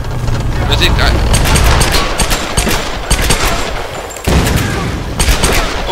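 Rapid bursts of gunfire in the Tomb Raider (2013) video game, loud dense volleys filling the clip, with a brief drop before another barrage, while a player's voice talks over it.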